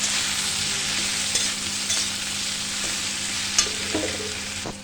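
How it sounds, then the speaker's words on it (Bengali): Spices with cumin and coriander powder stir-fry in a pan for a greens curry, producing a loud, continuous close sizzle broken by occasional light scrapes of a spoon, with nobody talking. "আর ধনের গুঁড়ো দিয়ে সমস্ত মশলাগুলো এবার কষিয়ে নেব"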